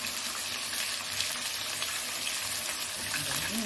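Shrimp fry in a pan with a steady, bright crackling sizzle that holds evenly and close throughout, with no talking.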